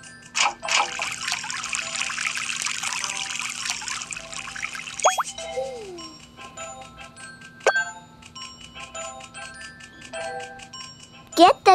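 Water trickles steadily in the Fluvsies World video game, a soft continuous dribble broken by bright chime-like effects and short bursts of game sounds, ending with a few sharp tones.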